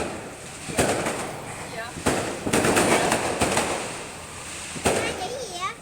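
Fireworks bang and crackle in a nearby park on New Year's Eve, several loud bursts spread across the moment with crackling tails, while people talk over them.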